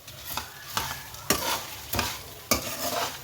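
Fenugreek and spices sizzle in a hot frying pan, a steady soft crackle broken by about five rhythmic scraping stirs spaced roughly half a second apart, fairly close and quiet.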